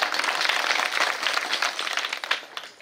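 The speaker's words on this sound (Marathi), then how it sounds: "यांच्यासाठी एकदा जोरदार टाळ्या" Crowd applause for kirtan singers at a devotional gathering, a fairly faint, dense patter of many hands that thins slightly toward the end.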